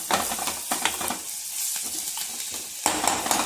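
Mint leaves sizzle in a hot tempering in a pan, crackling and spitting closely with light utensil clinks and stirring, dipping briefly before flaring up again, no speech.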